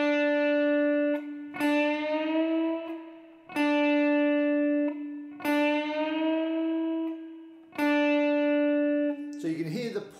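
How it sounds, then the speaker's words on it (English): Electric guitar plays a blues lick with string bends: four picked notes that each bend upward, are muted by the pick and released quietly, then re-picked, with clear sustained harmonics and a short scrape at the end. "and then I want to stop the note ringing out at the top of the bend by placing my pick back on the string"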